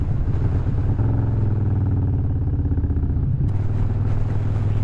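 A Harley-Davidson motorcycle is ridden toward the coast, its exhaust giving a loud, continuous low rumble with a brief dip in pitch before it pulls steadily again, heard close up.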